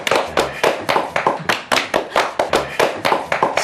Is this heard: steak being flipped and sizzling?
no